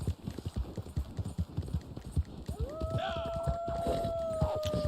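A horse gallops in Red Dead Online with steady, rapid hoofbeats pounding close and loud. A rising whistle-like tone and rushing wind noise join partway through the run.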